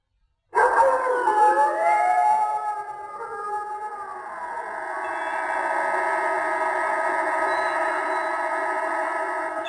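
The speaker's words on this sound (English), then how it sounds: "he pointed his nose at the moon and howled long and loud" A dog howls long and loud at the moon on a snowy night, its wavering, gliding tones rising and falling and holding for several seconds with no one talking.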